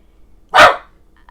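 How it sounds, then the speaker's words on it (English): A pet dog gives a single loud, close bark indoors, a sharp burst and then near silence. "That's why my dog is barking a lot."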